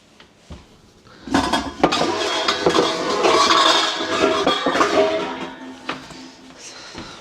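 Pots, pans and utensils clatter and clink in a home kitchen being readied for cooking spicy ramen noodle soup, with a few sharp knocks at first and then several seconds of busy, close metallic rummaging.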